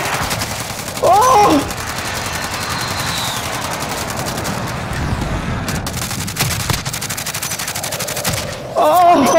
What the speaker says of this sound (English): Well, we're getting shot.